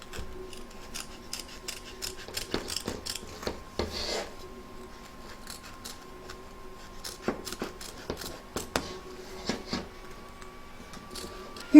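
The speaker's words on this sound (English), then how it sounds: "turn your hoop over and cut around the edge" Scissors snip around the edge of an embroidered bells applique freed from an embroidery hoop, a run of quick, close, fairly quiet crisp cuts with faint rustling of fabric between them.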